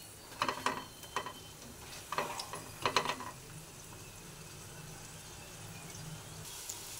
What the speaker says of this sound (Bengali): এইভাবে বারবারে উল্টে দিতে হবে, তা নাহলে একদিকে বেশি ভাজা হয়ে যাবে